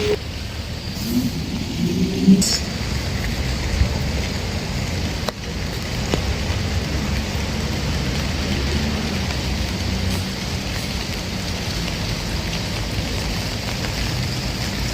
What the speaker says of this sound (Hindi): और बारिश इतनी तेज़ हो गई